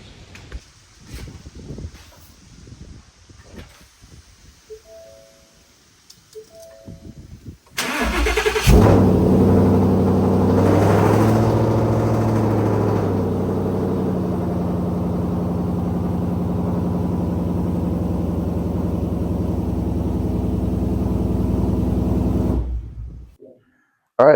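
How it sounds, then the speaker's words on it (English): A Ford Mustang engine, newly fitted with a Mishimoto oil cooler and radiator, cranks and fires about eight seconds in after faint clicks, then idles loudly and steadily, with a brief rev near the start, until it cuts off near the end. "We're going to go ahead and give it a start, let the coolant run through, and see if we need to tighten anything up."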